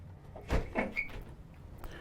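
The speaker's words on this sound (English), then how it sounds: "there's a pocket door that closes off here" A pocket door slides shut in the bathroom of an Emerald luxury coach, giving a few quick soft knocks and a brief rolling rub, heard close and fairly quiet with no talking.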